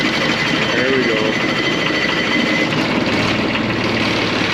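A classic diesel car engine idles after a cold winter start, a steady low rumble with rough rhythmic knocking that runs continuously, close and loud, with outdoor noise over it.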